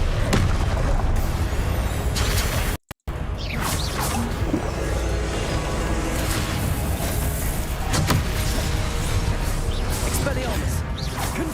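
Explosive Confringo spell blasts in Hogwarts Legacy crash and whoosh amid a dense, loud wash of combat effects and swelling background music, with booming impacts layered throughout.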